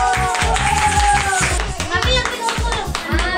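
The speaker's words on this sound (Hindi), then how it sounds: "तुमने ताली बजाई है?" Rhythmic hand clapping in a lively group, with Hindi-speaking children's voices and chatter over the claps.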